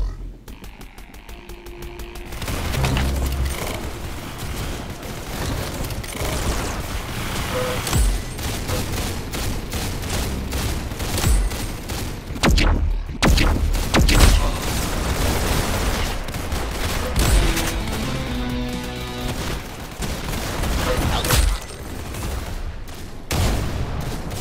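Dense, sustained bursts of automatic gunfire from the Roblox game Arsenal, rapid shots overlapping into a loud, continuous fusillade with heavier booming hits, almost unbroken for the whole stretch.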